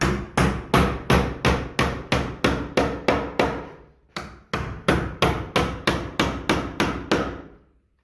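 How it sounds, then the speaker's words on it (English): Rapid, evenly spaced hammer blows striking wood, two bursts of about a dozen sharp knocks each with a brief pause between, close and loud. "Should be able to hammer it straight now."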